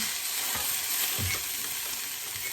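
Spinach frying and wilting in a pan, a steady broadband sizzle with soft stirring bumps, close and continuous with no talking.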